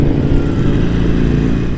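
Motorcycle engine running steadily and loud up close while riding, a dense low rumble with no break and no voices.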